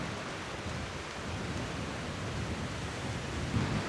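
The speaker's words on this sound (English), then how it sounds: "The wind though, it can go home." Wind buffets steadily across an open island beach during a disc golf round, a continuous broad roaring rush close to the microphone, without any voices.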